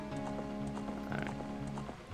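Horse hooves clip-clopping at a quick, even pace in Zelda: Ocarina of Time, a steady rhythmic trot of moderate loudness with game music underneath and no talk.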